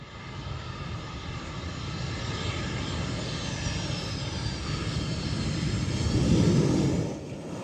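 A large cargo plane flying with its cargo door open mid-flight, a loud continuous engine and wind roar that swells slightly toward the end, steady and without voices.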